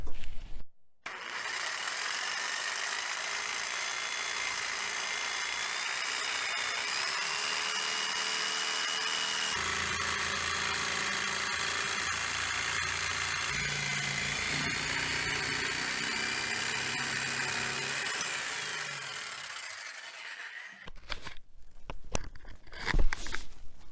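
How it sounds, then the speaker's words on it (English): A jigsaw saws through a wood piece clamped to a workbench, cutting parts for a kitchen drawer organizer. A steady, loud motor whine with rough cutting noise runs for about twenty seconds, then stops, followed by a few clattering knocks. "I can now clamp my piece to the bench and start cutting with a jigsaw"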